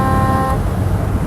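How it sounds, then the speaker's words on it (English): Horn of a vintage woody surf wagon, a single loud, close honk with a steady buzzy tone that cuts off after about half a second, leaving the low rumble of the car. "I got my horn button."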